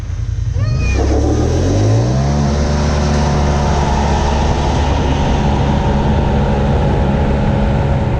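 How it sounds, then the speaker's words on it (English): A 2017 Polaris RZR Turbo with stock clutching on 32-inch tires and a 2020 Yamaha YXZ 1000 SS launch in a side-by-side drag race, a loud, close engine roar climbing steadily in pitch and sustained without a break. "So we're in my battle wagon, a 2017 RZR Turbo with stock clutching running 32s versus a 2020 YXZ 1000 SS."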